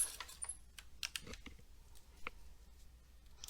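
Keystrokes on a computer keyboard while working in MS Word, a few quiet separate clicks spaced out over a few seconds, with no voice over them.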